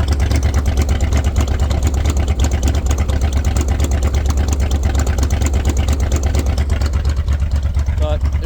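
A 1968 Buick Wildcat that sat for 45 years idles in cold weather with an uneven flutter, a steady low rumble running throughout, with talk faintly over it.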